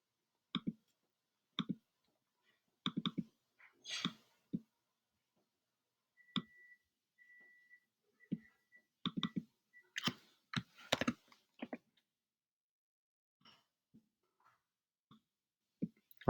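Sparse, isolated clicks and short bursts of key presses on a computer keyboard, with a few brief typing runs separated by silences, close and quiet.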